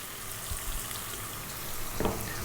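Fish and ginger stir-fried over high heat, giving a low, even sizzle that continues throughout, with a small clatter near the end.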